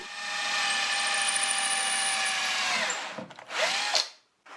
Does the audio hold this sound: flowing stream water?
no